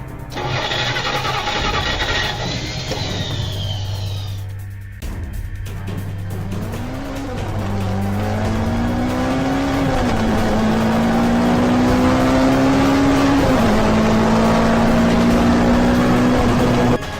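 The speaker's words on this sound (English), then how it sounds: "hijacked into my car and drove off" A car starts up and speeds off with rising engine revs and a long, loud tire squeal that climbs in pitch over several gear shifts, close and steady with no talk.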